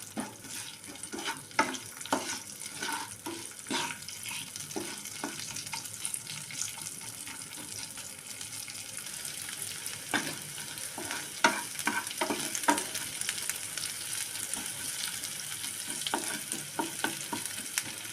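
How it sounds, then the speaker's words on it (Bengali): Chopped onions fry in a pan while being stirred, a soft continuous sizzle punctuated by repeated scraping and clinking strokes of the spoon, moderately quiet with no voices. "কুচানো পেঁয়াজটাকে হালকা লালচে করে ভেজে নেব।"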